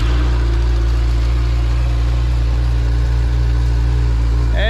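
A brand-new 2022 Hayabusa motorcycle engine runs right after its first start, giving a loud, steady, deep idle hum that holds evenly throughout.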